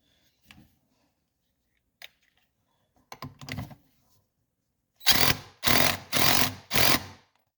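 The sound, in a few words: impact wrench running on flywheel nut, Honda TRX250R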